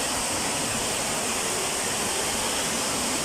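Water rushes below at a rural site, a dense, steady roar like a stream or small waterfall, loud and close and unbroken, with no voices.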